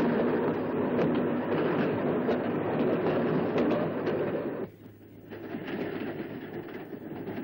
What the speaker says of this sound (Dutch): Ook het Volendammer trammetje van Amsterdam naar Volendam werd opgeheven.